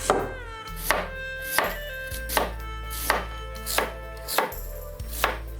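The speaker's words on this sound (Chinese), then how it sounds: "红薯洗净去皮以后，先切成薄片儿" A knife slicing a peeled sweet potato into thin slices on a cutting board, with about eight evenly spaced, crisp chops close up and no talk.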